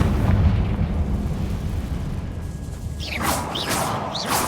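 Confringo and Bombarda spell explosions in Hogwarts Legacy land as rumbling, blasting impacts with low crackling debris, followed by several quick bright magical whooshes near the end.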